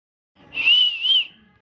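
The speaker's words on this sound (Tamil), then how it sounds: "எவன்டா அவன் ஹாஸ்பிட்டல்லேருந்து விசில் அடிக்கிறவன்?" A person whistles a short two-part tune, clear and close, lasting about a second with a slight dip in the middle, alone in an otherwise quiet setting.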